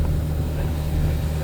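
A hydrogen-powered car engine hums steadily at low pitch with a constant drone, close and fairly loud, as the driver slows with the clutch pressed between gears.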